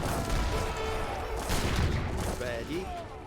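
Cannon fire in Age of Empires III: a dense battle soundscape with repeated booms and blasts layered over game effects, with a voice speaking throughout.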